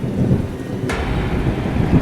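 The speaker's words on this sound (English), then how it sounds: "With the sound of a heavy bolt of lightning, Stefan suddenly woke up," A heavy thunderclap from a lightning bolt cracks sharply about a second in, then rumbles low and loud amid steady rain, with another burst near the end.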